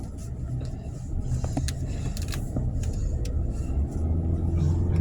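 A car drives home at night, a steady close road rumble of engine and tyres with faint higher swishes, continuous throughout with no talking.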